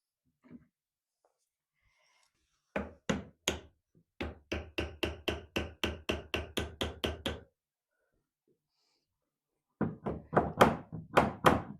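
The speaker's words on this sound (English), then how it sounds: "Give it a few taps with your hammer to get it perfect." Sharp wooden taps from a hammer on a wedge come in quick runs: a few strikes, a longer steady series, then another burst after a pause.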